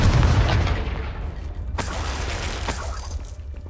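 A Confringo blasting spell bursts in the Hogwarts Legacy game, a loud booming blast up front followed by sharp crackling impacts and a second, smaller burst, with no talking over it.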